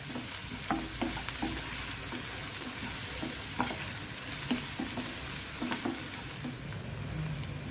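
Onions frying in a pan for chicken keema karanji give a steady, close sizzle with repeated clinks and scrapes of stirring, and no talking.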